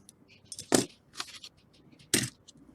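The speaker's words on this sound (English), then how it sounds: "I've got a nice pair of very sharp scissors to do the little snipping of this off." Very sharp scissors snip model grass tufts for a diorama, giving two crisp, close cuts about a second apart, with faint rustling and handling in between.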